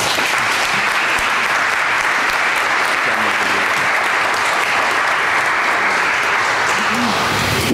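A crowd at a new member book signing breaks into loud, sustained applause, a dense continuous wash of clapping with faint voices underneath.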